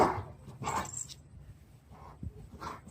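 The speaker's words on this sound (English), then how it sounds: "Please ignore that dog barking." A dog barks and whines a few times at a distance, with uneven muffled yelps spread across a few seconds.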